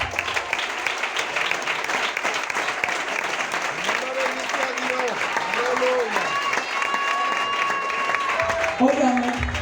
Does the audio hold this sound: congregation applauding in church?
yes